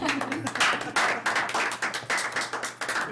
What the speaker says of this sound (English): Anybody in the audience, please applaud.